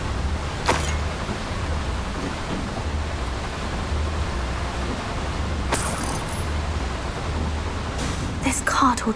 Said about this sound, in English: This cart ought to get me deeper into the mine.